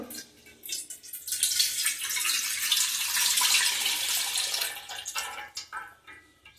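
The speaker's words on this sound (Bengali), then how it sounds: "দুধটা ছাঁকনি দিয়ে ছেঁকে নেবো" Milk poured through a strainer, a continuous liquid splashing stream that builds after a brief start, then breaks into trickles and drips near the end, with no talking.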